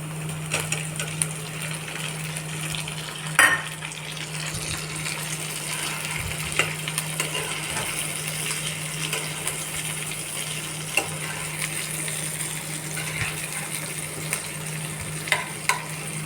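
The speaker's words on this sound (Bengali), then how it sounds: "এবার আমি আলুটা দিয়ে দেবো, আলু ভাজাটা" Potatoes frying in a pan with chopped onion and onion, garlic and ginger paste, a steady close sizzle under a low hum, with occasional sharp clinks and scrapes of stirring.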